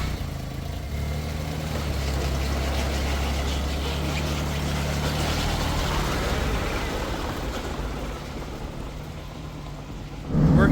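A tracked Smart car on a test drive gives a steady, loud engine drone with rumbling track noise throughout, with no talking and a louder burst right at the end.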